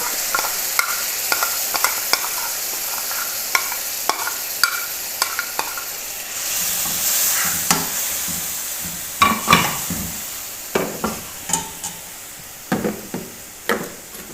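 Garlic paste sizzling and frying in a pan for garlic chutney, with a spoon scraping and stirring in repeated sharp clicks over a steady close hiss that swells midway.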